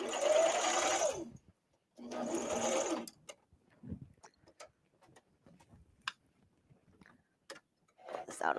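A serger sewing machine whirs in two steady bursts while stitching a tank top, followed by scattered light ticks and clicks as the fabric is handled, all close and clear.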